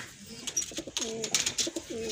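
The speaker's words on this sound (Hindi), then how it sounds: "अभी ये कबूतर उड़ाएंगे।" Pigeons coo in soft, repeated low calls over about two seconds, with bird chatter and light rustling around them as a flock kept by a hobbyist is readied for release into the sky.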